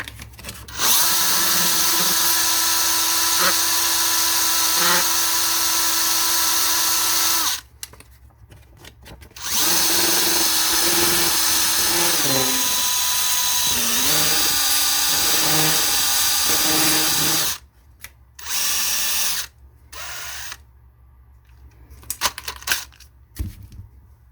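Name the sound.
grinding 1:25 scale model car tires with a power tool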